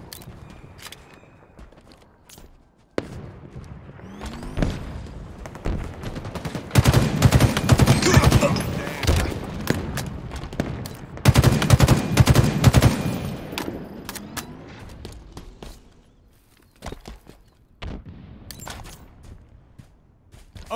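Gunfire in the video game Halo Infinite during a big team battle: bursts of rapid automatic shots building to two dense, loud volleys, with scattered single shots and quieter stretches around them.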